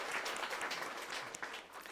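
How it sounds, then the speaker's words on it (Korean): A church congregation gives a short round of applause, a soft, steady patter of many hands clapping that sounds somewhat distant and fairly quiet. "우리 감사의 박수를 한번 쳐드리죠"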